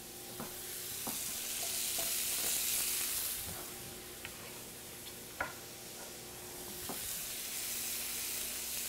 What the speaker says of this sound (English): now I'm gonna throw in my celery